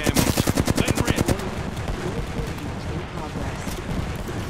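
Enemy gunfire in Apex Legends, a fast burst of about a dozen close, loud automatic shots that cuts off after a second and a half, leaving a churning battle noise behind.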